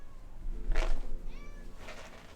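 Minecraft cats meowing, two distinct meows about half a second apart followed by a softer third, close and clear against a quiet game background.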